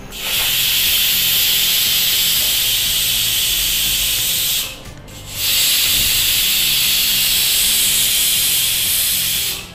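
A pressure cooker on a home kitchen stove vents steam in a loud, steady hiss. The hiss drops out for a brief moment near the middle, then resumes just as strongly.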